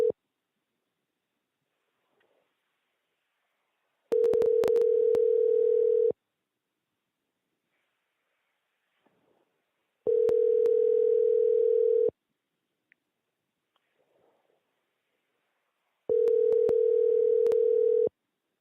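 Steady telephone dial tone while calling Ophelia, sounding in three separate bursts of about two seconds each with quiet gaps between, loud and clear with no talk.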